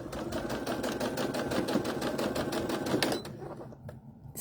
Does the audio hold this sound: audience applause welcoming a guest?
no